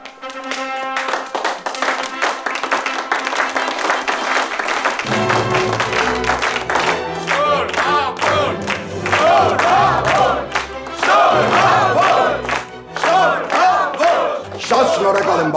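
Wedding guests clap and cheer loudly at a festive celebration, a dense crowd of applause and shouts over lively band music that continues throughout.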